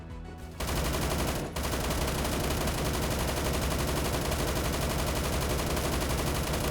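Sustained automatic fire from an RPK light machine gun with a 95-round drum in the Roblox shooter Phantom Forces, a dense, loud, rapid unbroken stream of shots after a short pause near the start, no talking.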